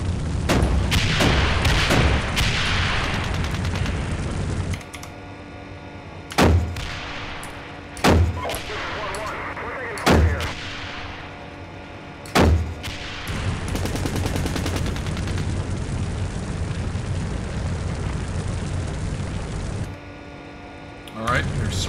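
Tank and weapons fire in the Steel Beasts combined-arms simulation: a loud, sustained engine and gunfire roar is broken by about five sharp, heavy cannon blasts at intervals, with radio-style voices speaking throughout.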